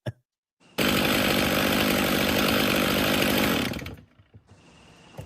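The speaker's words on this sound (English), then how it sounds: "this is the calibration video for the 500i chainsaw." A Husqvarna-style 500i chainsaw starts up after a brief knock, then roars at a steady high rev for about three seconds, loud and close, before dropping off and idling down.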